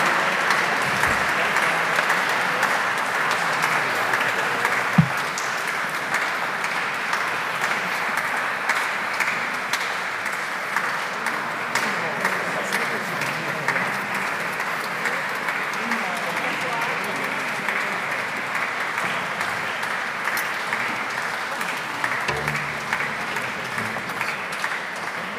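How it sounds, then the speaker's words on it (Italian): An audience at the Pittaluga International Guitar Competition gives the musicians long, steady applause, sustained clapping filling the hall for the whole stretch with faint voices underneath. "Ancora ravviviamo l'applauso per tutti questi"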